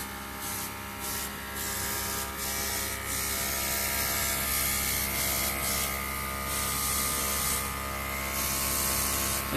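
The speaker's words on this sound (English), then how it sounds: "So we're just doing a bit of airbrushing." An airbrush sprays orange colour onto a Halloween cake, a steady, faint hissing buzz from the compressor with brief bursts of stronger spray coming and going.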